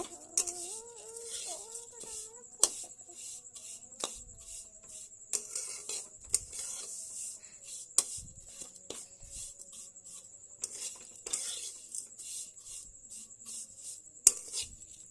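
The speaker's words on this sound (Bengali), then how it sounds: "এবার এটাকে কিছুক্ষণ নেড়ে চেড়ে নেব।" Fried vermicelli (semai) is stirred in a pan, giving soft repeated scraping and light tapping of a utensil against metal, with occasional sharper knocks, quiet and close, against a faint steady sizzle.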